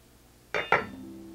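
A Teflon pan lid is handled with two quick metallic clanks close by, followed by a faint, steady low hum.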